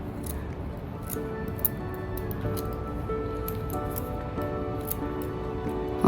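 Scissors trimming fringe bangs at home, producing repeated short crisp snips at an uneven pace over a low steady hum, with no talking.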